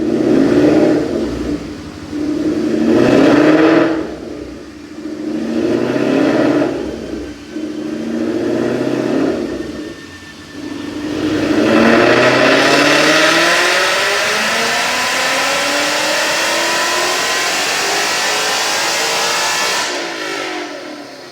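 A supercharged 2014 Mustang GT with long-tube headers revs hard on a chassis dyno, loud repeated rising and falling bursts for about ten seconds, then one long sustained climb to a high-pitched scream before cutting off.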